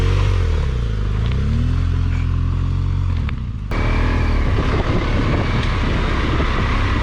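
A BMW R1200GS motorcycle engine on an off-road trail climbs in pitch under throttle, dips briefly, then surges back louder and rougher as the bike pulls away close by.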